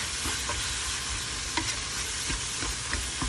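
Chicken noodle soup (sopas) with hotdog being stirred in a pan, a steady low sizzle and bubbling with soft utensil scrapes and taps at irregular intervals throughout.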